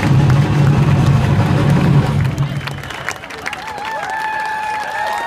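Crowd applauding and cheering after a samba band's set at an outdoor festival, loud clapping at first that thins out, then fades into lighter crowd noise with a few whistles and tones rising near the end.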